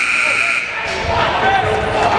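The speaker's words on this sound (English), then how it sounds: "As he wraps it around, the buzzer sounds." An end-of-period buzzer sounds at a high school ice hockey game, a loud, steady electronic tone held over the full crowd noise and arena din.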